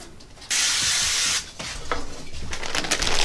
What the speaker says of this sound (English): We're just going to spray them with some oil